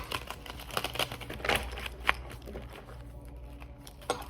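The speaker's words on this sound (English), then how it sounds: "I thought that I would pull some cards for us. So just shuffling." Tarot cards are shuffled close by in a quiet room, giving a run of soft, irregular papery riffles and clicks with a few sharper snaps spread across the stretch.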